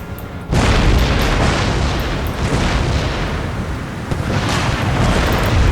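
Artillery and mortar fire rolls across an Empire: Total War battlefield, a loud sustained rumble of overlapping booms that starts abruptly after a quieter moment and stays dense throughout, with no speech.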